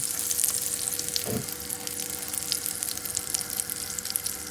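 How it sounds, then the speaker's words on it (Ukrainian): Butter melting in a frying pan, a continuous bright crackling sizzle held at an even level, with one brief low thump partway through and no talking. "Кидаємо чуть-чуть масла. Чекаємо, поки розтопиться."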